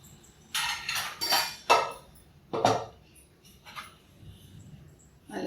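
A pressure cooker of Tamil Nadu-style mushroom biryani is opened with a series of close metallic clanks and rattles from the lid and pot, several sharp hits followed by softer knocks.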